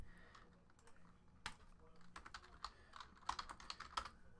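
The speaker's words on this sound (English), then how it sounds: "Let's type in all the hits. I type quickly, don't worry." Quick typing on a computer keyboard during a football card box break, with irregular bursts of clicking keys, fairly close and fairly quiet.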